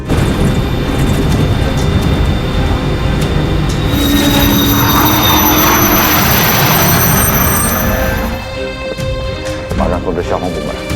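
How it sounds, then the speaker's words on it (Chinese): An aircraft engine roars loud and steady during a test flight takeoff, with a high whine rising through the roar before it eases slightly near the end. "现在飞机离地，随时两边飞行"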